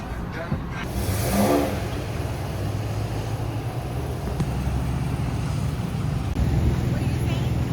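An RV cruising along the road gives a steady low rumble of engine and tyre noise, with a brief louder swell early on, continuing evenly throughout.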